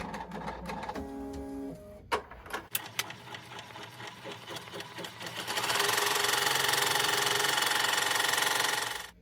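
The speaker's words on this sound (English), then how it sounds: "We're going to start with the placement stitch for the batting." An embroidery machine sews a placement stitch for batting on an in-the-hoop mug rug, first with a few clicks and short whirring bursts, then a loud, rapid, steady mechanical stitching chatter for the last few seconds.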